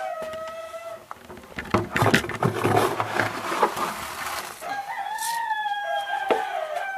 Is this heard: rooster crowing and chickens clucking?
yes